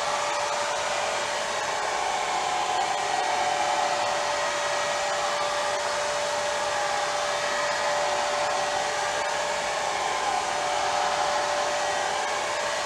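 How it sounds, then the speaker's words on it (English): A hair dryer on low setting, used on pour painting, blows continuously with a steady, even whoosh and a faint high whine, close by and uninterrupted. "grab the hair dryer and put it on low"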